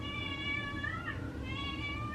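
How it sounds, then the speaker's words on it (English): A cat meows indoors on a farm in a drawn-out, wavering call, close by, over a steady low background hum. "I got my cat in the house because it's been too hot for her to stay outside"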